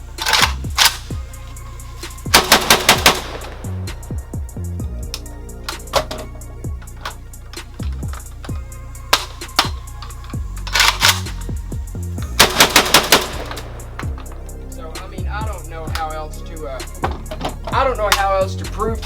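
JTS AK12 semi-automatic shotgun fired outdoors in rapid bursts, loud sharp blasts coming in quick strings with short pauses between groups and metallic clatter of the action between shots.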